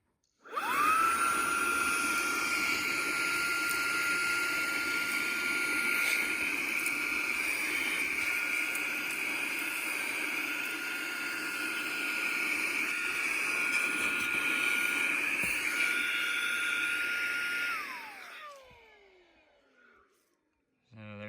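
A small rechargeable handheld car vacuum whines steadily at a high pitch for about seventeen seconds, then spins down and cuts off.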